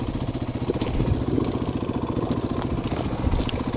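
A Yamaha 125cc motorcycle idles close by with a steady, rumbling putter and a light mechanical clatter, running continuously without talk.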